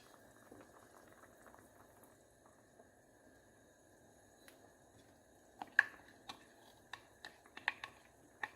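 Sambar simmering in a pot with dal, tamarind and sambar powder: a faint, soft bubbling that grows into scattered pops and small bursts near the end.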